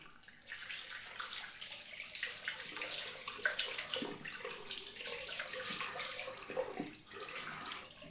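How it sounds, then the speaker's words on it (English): Steady running water from a tap rinses a safety razor, a continuous splashing rush that lasts throughout with slight shifts as the razor moves under the stream. "just going to give this a quick swill out"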